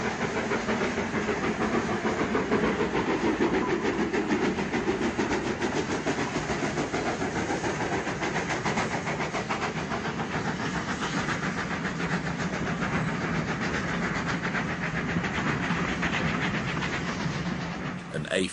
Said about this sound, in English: the 8:15 King's Cross Grantham stopper is the first down mainline train of the day